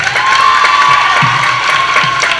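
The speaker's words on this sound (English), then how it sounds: "big round of applause for Matt" Loud, steady applause and cheering from a talent show audience for a performer named Matt, with a thin sustained tone running beneath the crowd noise.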